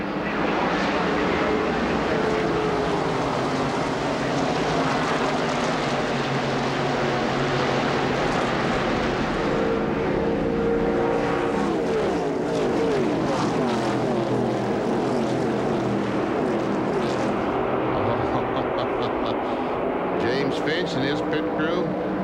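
ARCA stock cars racing at Daytona International Speedway in 1996 sweep past in a continuous loud engine roar, a dense pack of cars passing close with rising and falling pitch.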